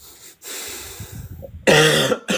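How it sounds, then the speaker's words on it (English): A few harsh coughs burst out close by after some breathy throat noises, loud and abrupt. "Sorry for coughing"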